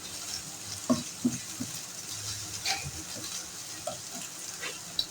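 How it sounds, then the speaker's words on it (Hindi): Chopped onions for chicken fried rice sautéing lightly in a pan, a soft steady sizzle with occasional stirring knocks and scrapes, close and moderately quiet, with no talking. "आधी प्याली प्याज, इसको हम हल्का सा सोते करेंगे"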